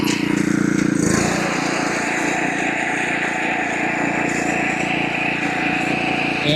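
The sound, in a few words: lawn mower mowing a lawn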